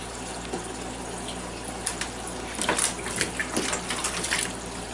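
Water pours steadily into an iguana's bath at close range, a continuous splashing gush with some louder bursts midway and no talking.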